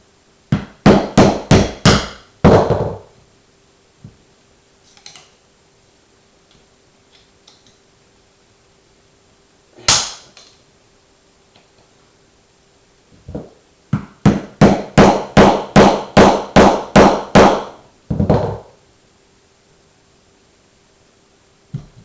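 Hammer blows breaking the plastic on a Yamaha Virago motorcycle fork during a fork seal replacement, two bursts of about half a dozen quick, sharp, close metallic whacks each, separated by a quieter pause with a few isolated taps.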